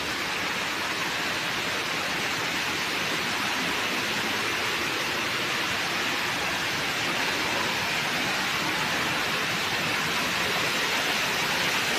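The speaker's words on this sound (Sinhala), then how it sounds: "මේ ඉස්සරහෙන් කඩා හැලෙන්නේ දියැල්ල." A large waterfall in Sri Lanka pours down in a dense, unbroken roar, loud and constant from start to finish with nothing else standing out.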